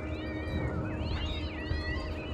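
Cat meowing inside the video game Voodoo Vince: Remastered, a few drawn-out wavering meows standing out over a constant dense game background hum, with no talking.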